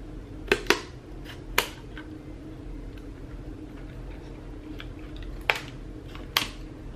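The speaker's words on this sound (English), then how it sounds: "I should actually have a bigger pair of scissors for this" Scissors cutting chipboard, a handful of sharp crisp snips spread irregularly over several seconds, close by against a quiet room.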